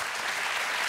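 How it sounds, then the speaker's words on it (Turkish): A dense wash of studio audience applause at a comedy talk show, loud and even throughout a short burst with no gaps. "Berkay Şahin diyenler alkışlayabilir mi?"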